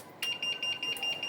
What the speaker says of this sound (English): Now I'm going to trigger this alarm using the breach principle.